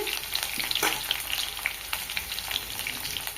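Lightly fried potatoes sizzle and crackle steadily in a pan, a continuous close-up hiss with scattered pops and no talking.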